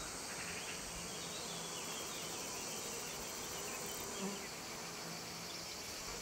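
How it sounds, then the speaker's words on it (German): Bees and bumblebees buzz steadily around sunflower blossoms outdoors, a soft continuous drone of several insects with no voices. "Insekten, vor allem Bienen und Hummeln, bestäuben die Blüten."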